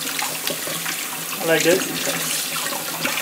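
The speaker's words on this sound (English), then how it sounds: "before you put your saltfish to boil, you want to wash off the salt from it first," Tap water runs over saltfish to rinse away the salt, a steady splashing stream that swells briefly midway, with a person talking over it.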